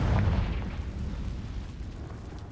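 A Confringo blasting spell goes off in Hogwarts Legacy, a heavy low boom at the start that rolls into a long rumbling tail and fades slowly, with no voices over it.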